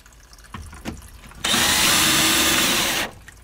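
A power drill whirs steadily for about a second and a half, driving mounting screws for a Manabloc plumbing manifold, with soft handling clicks before and after.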